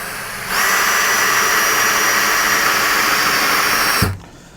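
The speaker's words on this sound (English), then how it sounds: "I'm just going to set the clutch on the top setting to start with and see how far this screw goes in." A power drill set to its top clutch setting drives a screw, giving a loud, steady high-pitched whine that runs for about three and a half seconds and then winds down abruptly.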